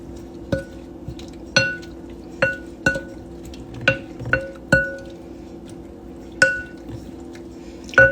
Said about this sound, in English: now we'll give this a little stir